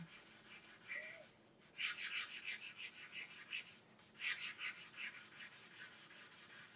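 Sandpaper rubs over a cured lacquer coat applied over a tohoe ground layer, a steady run of rhythmic back-and-forth hissing strokes, near and fairly loud, with two brief pauses between passes.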